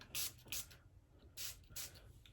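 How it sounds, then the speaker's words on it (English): Short hissing bursts of neutralizer solution sprayed from a spray bottle into a pot and onto a brush, two quick pairs of close spritzes separated by a pause, with no talking. "I spray some of that in there and on the brush"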